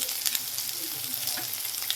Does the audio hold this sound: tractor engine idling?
no